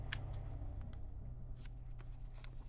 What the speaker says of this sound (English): I'm going to fold over to make our square.